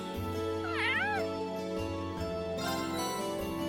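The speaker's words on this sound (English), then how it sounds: "I know the cat's here, so I want to see if I can feed it milk" A cat in Trails of Cold Steel gives a couple of clear, rising-and-falling meows on a school rooftop over steady game background music.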